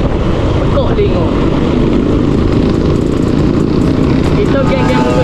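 A group of motorcycles, including sport bikes, roars past on a busy street on a Friday evening, heard as a loud, continuous engine drone and buzz from a moving rider's viewpoint, with a voice talking underneath.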